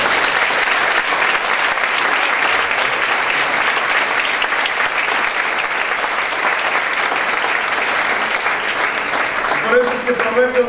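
A church congregation applauding during a Spanish-language worship service, steady sustained clapping from many hands filling the room at full loudness, with voices rising near the end.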